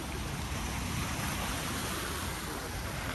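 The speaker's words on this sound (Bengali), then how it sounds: "এই সমুদ্রের শব্দটাই আমি আপনাদের শোনাই" A Sri Lankan beach with surf rolling in: a constant, close roar of breaking sea waves and wash, with no breaks in the noise.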